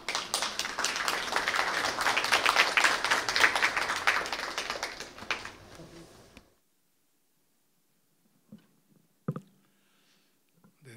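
Audience applause greeting the opening speaker at a Korean academic symposium ceremony, a dense sustained clatter of many hands filling a hall for about six seconds before stopping abruptly, followed by a few faint scattered noises.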